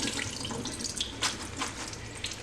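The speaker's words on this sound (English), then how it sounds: "I'm going to go ahead and turn this water off and let these drain" Water runs steadily from a kitchen faucet into a sink where pasta is draining, a continuous splashing rush throughout.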